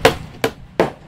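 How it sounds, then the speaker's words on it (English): Three sharp hammer blows ring out at an uneven pace during repairs to a house damaged by a tornado in a Vero Beach Highlands neighborhood, each strike loud and close, with no voices. "the sounds of hammers and repairs can be heard throughout the day"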